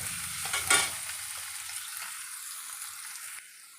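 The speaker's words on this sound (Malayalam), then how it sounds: "എണ്ണ ചൂടായതിന് ശേഷം ചതച്ച് വെച്ച ചുവന്നുള്ളി ചേർത്ത് മൊരിക്കുക." Crushed shallots hitting hot oil, a sharp burst of sizzling that settles into a steady, close frying hiss which drops off near the end.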